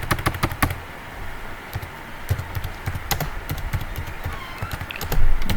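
Rapid clicking of keys on a computer keyboard while C# code is written, bursts of close, crisp taps in an uneven rhythm, with no voices over them.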